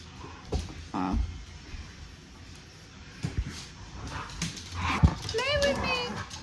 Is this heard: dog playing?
yes